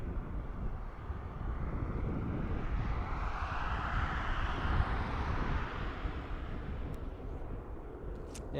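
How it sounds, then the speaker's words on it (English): Airplane at Dublin Airport passing overhead, a broad roaring jet rush swelling and fading across the whole stretch, with wind buffeting the microphone outdoors. "Oh, look, a plane."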